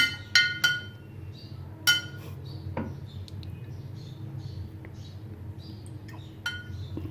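A spoon stirs homemade sharbat in a glass, giving sharp, bright clinks. A few strong taps come early and near the end, with lighter tinkles and soft swirling between them.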